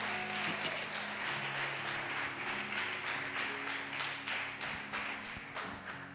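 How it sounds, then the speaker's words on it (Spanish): A church congregation claps for their pastor, a steady broadband patter of many hands filling the space while a low hum and faint background voices sit underneath. "Denle un aplauso a su pastora."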